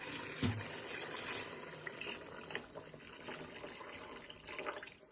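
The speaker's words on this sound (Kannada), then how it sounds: "ಅದಕ್ಕೆ 4 ಲೋಟ ನೀರು ಹಾಕ್ತಾಯಿದ್ದೀನಿ" Water runs and splashes steadily into a cooking pot holding rice for biryani, a soft continuous pour with faint clinks, no talking.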